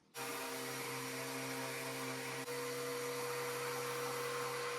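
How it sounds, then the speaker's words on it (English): Electric sander stripping white paint from a veneered roadside dresser, starting abruptly into a loud, steady, close whirring hum that holds unchanged apart from one brief dip midway. "This paint should be very easy to remove with a sander, so I'm just gonna try it on this piece."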